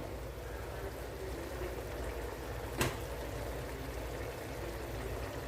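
Ash gourd simmering in water in a covered pot gives a faint, steady bubbling hiss that runs evenly throughout, with one brief clink partway through.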